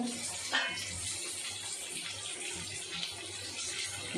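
Continuous running water, a steady pour into a boiling pot of rasam, with a faint low hum underneath and a small clink near the start.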